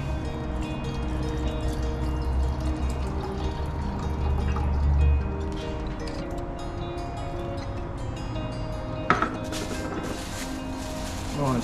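Milk is poured off razor fish during cooking at Streaky Bay, a steady liquid pour and dribble that runs near and continuous for several seconds. Faint clatter comes in near the end and a sharp knock follows later.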